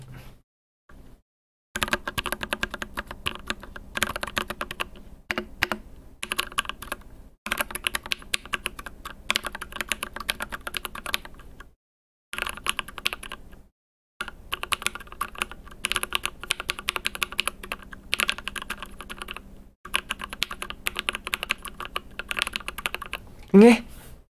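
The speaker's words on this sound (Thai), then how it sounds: "อันนี้คือเสียงคีย์บอร์ดของผม" Someone types on a computer keyboard in bursts of rapid, close clicking keystrokes separated by short pauses, with a voice speaking at times over the clatter.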